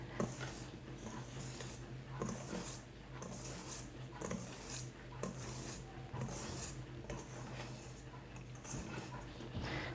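A spatula or whisk folds lemon cake batter from top to bottom in a bowl, giving soft, steady scraping and light clinking against the dish, faint and continuous with no voices.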